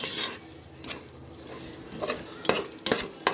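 Chili powder masala sizzles and fries in a pan for country chicken biryani, with a few sharp scrapes and clinks of a stirring spoon breaking through the soft, steady hiss.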